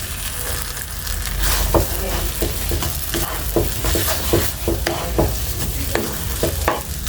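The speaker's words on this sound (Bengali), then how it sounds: "আবারও ভালোভাবে মিশিয়ে নিচ্ছি।" Bread pieces being stirred and mixed in a pan with milk powder, a steady sizzle under repeated scraping strokes of a spoon, close and fairly loud throughout, with no talk.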